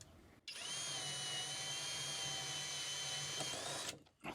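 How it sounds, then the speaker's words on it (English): A power drill fitted with a socket adapter spins deck screws into composite deck boards on metal stair stringers, a close, loud, steady whine lasting about three and a half seconds before stopping abruptly. "go underneath here with this socket adapter and get these spun a little bit of the way."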